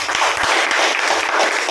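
An audience at a Hindi-language business seminar claps steadily, a thick wash of applause running the full length at high volume, close and unbroken by speech.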